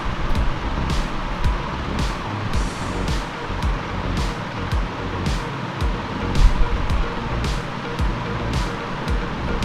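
A motorcycle engine labouring on a stony trail, a steady close rumble with ticking and rattling from the rough ground throughout.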